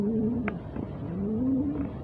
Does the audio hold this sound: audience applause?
no